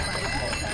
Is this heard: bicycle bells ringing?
yes